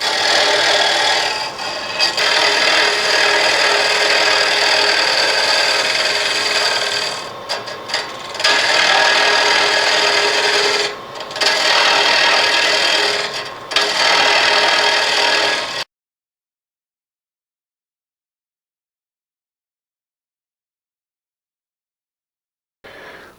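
Wood lathe cutting away waste wood beneath a turned bowl, a steady loud scraping, rasping roar for about sixteen seconds with brief dips as the tool lifts, then silence.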